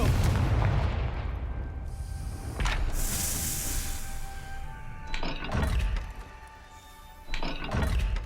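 Fire spell explosions in the Hogwarts Legacy video game: several booming blasts a few seconds apart over continuous rumbling game ambience, with no talking.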